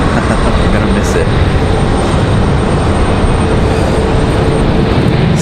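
Air Wisconsin airliner in Air Wisconsin livery taking off at Raleigh-Durham International Airport, a steady broadband jet engine roar holding loud and continuous throughout, with faint speech over it.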